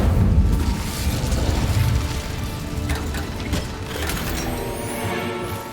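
Incendio fire spell in Hogwarts Legacy, a heavy whooshing, booming burst of flame followed by crackling rumble and a few smaller mechanical clicks, loud and continuous without talk.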